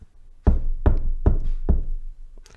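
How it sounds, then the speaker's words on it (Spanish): Four heavy, evenly spaced knocks on a door, close and resonant, each ringing briefly before the next, with no voices. "De pronto hubo unos golpes en la puerta."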